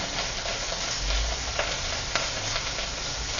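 Vegetables frying in a hot pan with red chili paste just added, a steady dense sizzle throughout with faint stirring scrapes, close and continuous.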